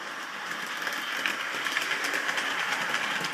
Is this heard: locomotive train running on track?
yes